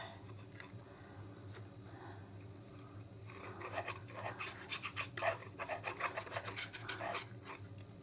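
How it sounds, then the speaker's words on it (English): A paintbrush scratches on cardstock, soft, dry rubbing in quick short strokes, close and quiet, starting faintly then growing busier and rougher. "Paintbrush scratching on the cardstock."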